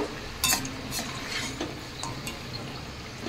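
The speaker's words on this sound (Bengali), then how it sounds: "এইভাবে লাল লাল করে ভাজা করে নেব হালকা আঁচে" Suji and potato snacks fry in a pan over low heat, a soft sizzle under scattered sharp clinks and scrapes of a utensil stirring and lifting the pieces, close and fairly quiet.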